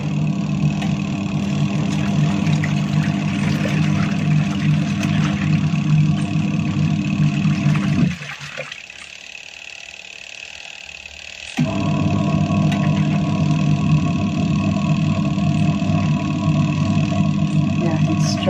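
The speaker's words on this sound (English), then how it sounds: "I've realized that the machine is struggling to wash all those clothes" An overloaded washing machine labors through a wash cycle with a loud, steady droning hum that cuts out briefly midway and then resumes, with a person talking over it.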